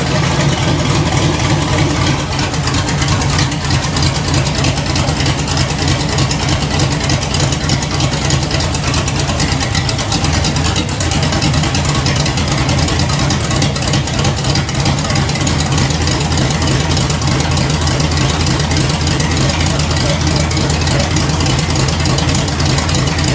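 An LS V8 swapped into a 1967 Chevelle idles loudly and steadily nearby, a continuous rumbling throb with no voices over it.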